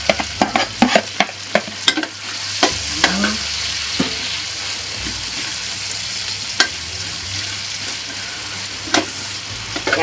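Butter sizzles as it heats in a pan while a utensil stirs it, sharp scraping clicks recurring over a steady, gentle frying hiss.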